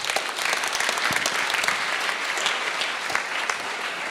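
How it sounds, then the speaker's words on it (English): An audience at an opening ceremony applauds steadily, a dense wash of clapping from many hands that holds at an even level throughout. "So big round of applause, please."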